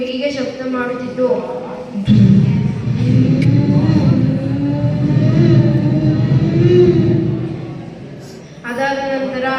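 A person mimics a KTM motorbike engine with a loud, close, sustained throaty rumble that rises and falls like revving for about six seconds, bracketed by short bits of ordinary voicing.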